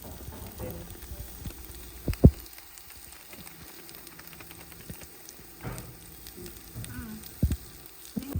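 Ginger garlic paste sautés in oil in a large pot for a two-kilogram home mutton biryani, giving a faint, low sizzle broken by occasional clanks and scrapes.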